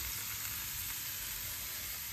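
Enoki mushrooms sizzle in olive oil in a frying pan, a steady close-up hiss and crackle that runs unbroken throughout with no talk.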